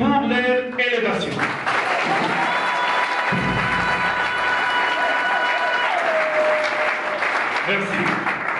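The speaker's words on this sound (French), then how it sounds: "que nous puissions donc les applaudir pour leur élévation" Sustained applause from a congress audience of comrades, dense and steady throughout, with a few voices and tonal murmurs rising over the clapping before it carries on.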